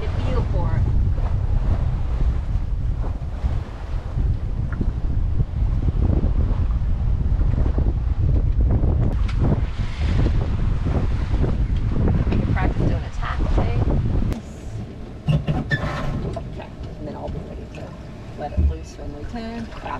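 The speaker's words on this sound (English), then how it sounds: "We can just sail with the wind and we're going 5 knots." A sailboat running with the wind at about 5 knots, with strong steady wind buffeting the microphone and rushing water around the hull; the roar eases partway through into softer splashing and creaks.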